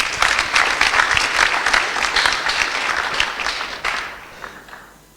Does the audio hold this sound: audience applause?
yes